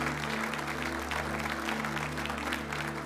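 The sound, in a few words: congregation applauding at a religious gathering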